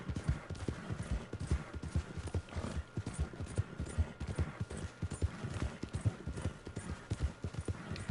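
Horse hooves galloping in a steady, rapid clip-clop rhythm in Red Dead Redemption II, close and continuous throughout with a faint whinny underneath.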